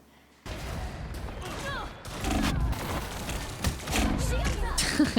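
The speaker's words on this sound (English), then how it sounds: "I just took a shotgun to the face" Shotgun blasts and heavy gunfire in the Marvel Rivals video game come as dense, loud bursts with thuds and crashes, repeated through the clip under a player talking over them.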